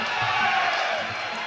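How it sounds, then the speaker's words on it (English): A roaring arena crowd at a kickboxing fight cheers and shouts continuously, a dense, loud wash of voices that swells slightly and holds steady throughout. "the way the crowd's getting into this one."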